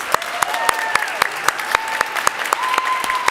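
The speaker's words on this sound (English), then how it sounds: "let us clap for you, family and friends" Graduates at a nurse pinning ceremony applaud families and friends, sharp separate claps over a sustained wash of applause, with a voice speaking faintly underneath.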